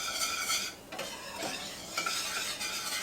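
Butternut squash mac and cheese sauce bubbles and sizzles softly in a pan, with gentle stirring scrapes coming through at a low, steady level.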